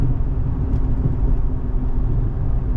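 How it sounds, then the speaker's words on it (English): Low rumbling drivetrain vibration inside a Jeep decelerating with its front drive shaft removed, a steady droning hum with throbbing undertones from the transmission tunnel, heard from within the cabin with no talking. "Every time I deaccelerate, get a nice vibration from the transmission tunnel."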